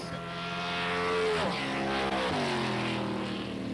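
Dragster in an Econo class drag racing final at an old New Zealand strip, engine roaring loudly and steadily close by with two quick gear-change dips as it accelerates, no talk.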